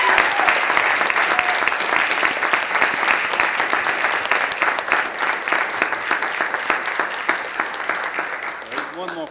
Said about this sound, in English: I think we can give Marine another round of applause